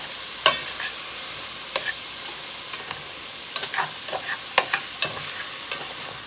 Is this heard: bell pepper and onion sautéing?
yes